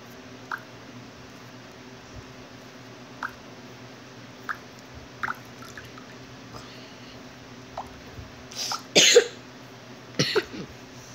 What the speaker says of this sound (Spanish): me pegó la tos